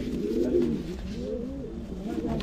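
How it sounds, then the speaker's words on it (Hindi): Soft, low cooing of Punjabi pigeons, several overlapping murmured calls, close by against a light background hum. "ये पंजाबी कबूतर बड़ा प्यारा है"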